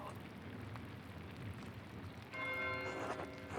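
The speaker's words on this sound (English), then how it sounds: "Why is Matthew ringing the bell?" A church bell rings in a rainy medieval abbey setting in the video game Pentiment, a layered metallic tolling that swells in partway through over steady rain-like background ambience.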